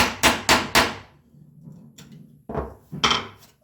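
Hand-tool joinery being chopped out of walnut: a mallet strikes a chisel in three quick, loud, close blows, a pause, then two more sharp hits, each ringing off briefly.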